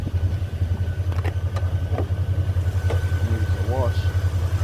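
A Mercedes CL550 idles nearby with a steady low pulsing rumble throughout, while someone talks briefly over it.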